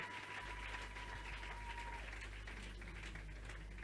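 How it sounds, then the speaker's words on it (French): Church congregation at a Sunday service applauding in praise, a steady soft patter of many hands held at an even level throughout, somewhat distant and muffled over a low hum. "Acclamez pour la gloire de l'Éternel"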